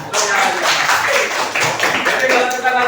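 Indonesian students perform the patterned 'tepuk salut' classroom clap, a quick rhythmic series of close, sharp hand claps and taps mixed with voices.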